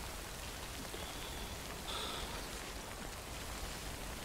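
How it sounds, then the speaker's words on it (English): Steady rain in the video game Death Stranding, a constant hiss of falling drops spread evenly and continuously throughout, with no talking. "Recover your cargo, then find shelter from the rain."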